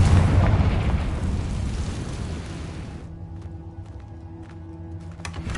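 The Confringo spell explodes in the Hogwarts Legacy video game: a loud, rumbling boom that slowly decays, followed by near-quiet with a few small ticks and clicks.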